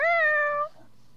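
Winnie the cat lets out one short, clear meow that trails off after about half a second, then the room goes quiet.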